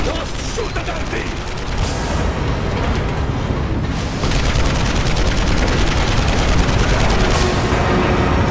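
Sustained gunfire in the Marlow Briggs and the Mask of Death action game, dense rapid bursts running continuously under a loud mechanical battle din, with no speech.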